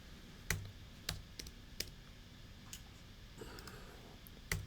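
Computer mouse clicking during KiCad circuit board layout work: sharp, faint, close clicks spaced irregularly, some in quick pairs, with a quiet room background.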